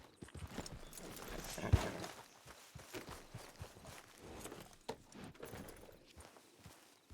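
A horse in the Western roleplay game WildRP walks with soft, irregular hoof clip-clops, moderately close and fairly quiet, with no talking over them.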